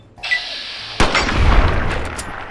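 A single sharp gunshot from the video game Fallout 3 cracks loudly after a brief quiet tone, followed by a decaying rumble and scattered game effects.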